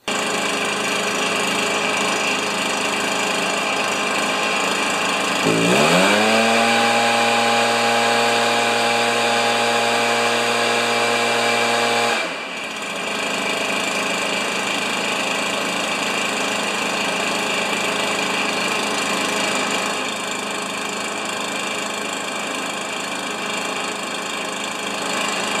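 A Stihl BR430 backpack leaf blower engine idling steadily at close range, with a deeper, louder tonal hum surging in for several seconds before dropping back to the constant idle drone.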